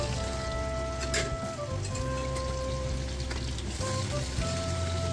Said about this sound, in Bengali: দেখতেই পাচ্ছ মাছগুলো কত সুন্দর ভাজা হচ্ছে